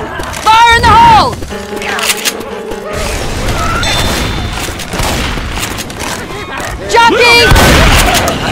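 Grenade blasts and gunfire rumble through a Left 4 Dead 2 firefight, with loud booms and cracks around the beginning and end, while voices shout over the action.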